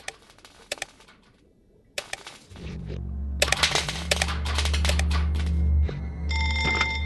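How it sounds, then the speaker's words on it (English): An old telephone rings briefly near the end, a bright repeated bell tone rising over loud droning background noise and scattered clattering hits in an animated cartoon scene. "The phone will ring"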